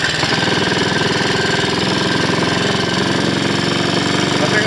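A Triumph Cub replica motorcycle engine runs steadily up close, a loud, fast, even single-cylinder chatter that holds without change throughout.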